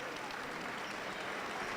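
Applause fills a basketball stadium at a U16 championship, a dense, even wash of clapping from a distant crowd, with a voice speaking over it.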